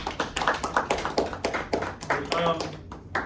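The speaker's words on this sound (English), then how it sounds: "clap it up for yourselves, please" An audience claps along at a university talk on African American male leadership, producing a quick run of distinct, closely spaced hand claps with a slightly uneven rhythm, fairly near and clear.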